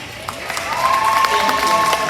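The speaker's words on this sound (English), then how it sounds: "could you please stand so we can give you a round of applause?" Applause from an audience honoring standing student council members, steady clapping under a thin tonal whistle or feedback line, with faint voices mixed in.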